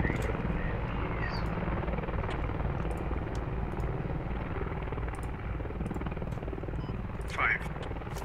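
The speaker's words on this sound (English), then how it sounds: "We have an enemy chopper at tunnel defense north." An enemy helicopter flies in the Squad video game, a steady rotor drone holding at the same level from start to finish, with a brief louder whine near the end and voices speaking over it.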